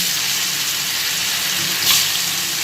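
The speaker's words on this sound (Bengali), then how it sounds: "তেলটা গরম হয়ে গেছে এবার চলো পনিরগুলো একটু হালকা করে সব ভেজে নিই" Paneer pieces, lightly coated with salt and turmeric, fry in hot oil in a home kitchen, giving a steady close sizzle and crackle throughout, with one brief louder spit near the middle and no talking.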